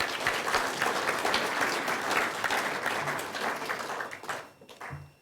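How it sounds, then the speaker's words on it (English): An audience gives a collective round of applause for a group of new candidates at an event, a dense, steady clapping that carries on for several seconds before thinning and fading out near the end. "Collective round of applause, please, for all of the candidates."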